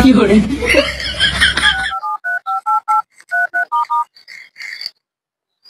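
A voice speaks briefly, then a quick run of phone keypad tones beeps out, about a dozen evenly spaced presses, clear and close.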